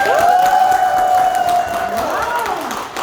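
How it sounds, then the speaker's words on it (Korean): A crowd at a business lecture in Gwangju, Korea cheers with high whoops and shouts over a bed of clapping, loud and sustained for a few seconds before easing off. "오늘 유난히 이렇게 환호해 주시는 분들이 굉장히 많으시네요."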